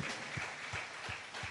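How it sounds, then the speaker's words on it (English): A congregation claps hands in praise at a retreat centre adoration service, four even, rhythmic claps over a soft background. "Clap the hands unto the Lord."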